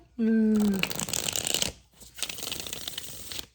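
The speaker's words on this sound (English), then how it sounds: "I like the shuffle. It's shuffling so much better." A tarot card deck is shuffled up close, with a brief tone at the start, then a dense rattling riffle, a short pause and a second softer run of shuffling.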